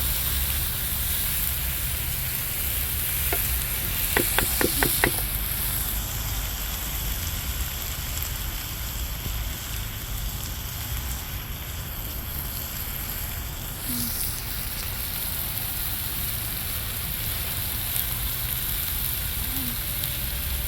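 Okra (bhindi) frying in a pan gives a steady, even sizzle throughout, with a few brief utensil clicks near the start, close and without talk.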